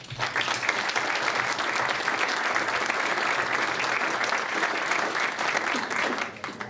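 Sustained, dense applause fills a hall as an audience at an EIU Entrepreneurship Week event welcomes the speakers, holding steady and loud for nearly seven seconds before tapering slightly.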